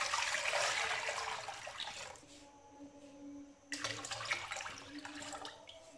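Three litres of water poured into a pot for tamarind and plum sharbat, a steady rushing stream that stops partway, then resumes loudly with splashing and gurgling, close by and with no talk.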